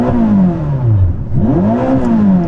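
A Ferrari SF90 engine revs hard with no limiter, rising pitch sweeping up, dropping, then climbing again in quick successive revs, close and loud, with no voices.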